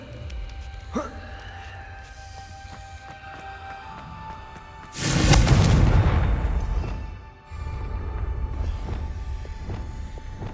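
A Confringo fire spell bursts in the Hogwarts Legacy video game: one loud roaring blast erupts midway and fades over about two seconds, set against a quieter continuous game ambience.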